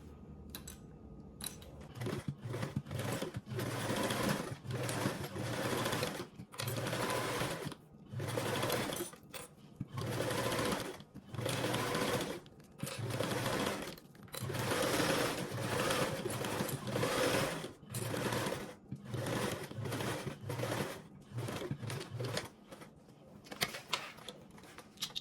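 A sewing machine bastes fabric with a 1/8 inch seam allowance, its stitching chatter running in close, loud bursts broken by short pauses, stopping and starting again and again.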